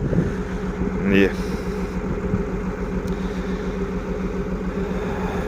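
A tractor drags a disc harrow across a field after a sunflower crop, running fast and light in gear 2-4. Its engine drones as a steady, close, continuous rumble throughout.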